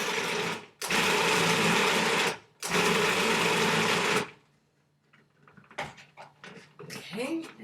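A kitchen appliance pulses a cheesy onion mashed potato mixture in two loud, sustained bursts, then stops; quieter kitchen clatter and a voice follow.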